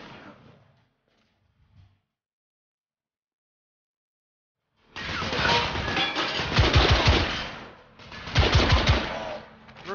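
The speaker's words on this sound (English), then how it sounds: "I'm taking suppressing fire." Suppressing gunfire in the video game The Order: 1886, loud bursts of rapid automatic fire in two long volleys after a few quiet seconds, with faint sounds at the start.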